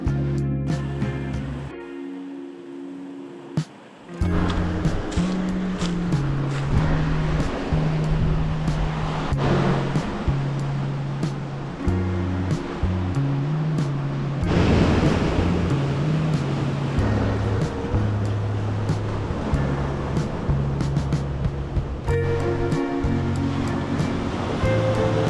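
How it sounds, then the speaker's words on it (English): Pacific surf surging in and out of rocky tide pools on the Baja coast at Bahia Santa Maria, loud rushing waves swelling and receding in long washes, with a brief near-silent gap early on. "the ocean breathed in and out of the tide pools"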